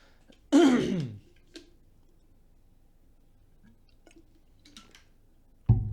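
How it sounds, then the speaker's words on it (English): A single gruff throat clearing close by, followed by near silence with faint small ticks, then another short burst of noise at the end. "I hope me turning away when I clear my throat is enough"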